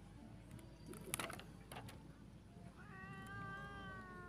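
Stray cats meow repeatedly while being fed outdoors, four of them gathered, with drawn-out, wavering cries close by over a low background hum.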